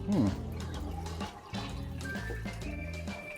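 Water gushes and splashes from an old hand pump at a cottage on Georgian Bay. It pours in uneven surges with brief pauses, heard close up, and a voice speaks over it.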